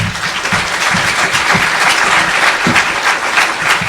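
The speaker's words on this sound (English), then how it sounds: "a big round of applause for Tim." A room of attendees at a legal hackathon gives loud, continuous applause to keynote speaker Tim, with dense, steady clapping throughout.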